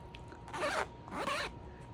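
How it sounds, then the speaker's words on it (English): A bag's zipper is pulled twice in two quick, rasping strokes close by, with a brief pause between them and quiet around. "Hear that, guys? Zipper smooth so perfectly."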